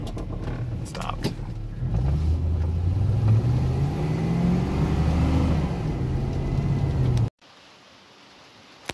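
An LS-swapped Chevy S10 pickup drives on rainy roads at around 55, its V8 engine droning loud and close with rising revs and tire hiss before the sound cuts away abruptly near the end.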